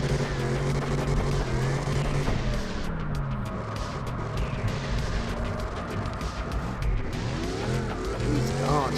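Cars slide sideways in a racing video game, engines droning steadily under repeated tire squeals and skid sounds through the whole stretch, loud and close.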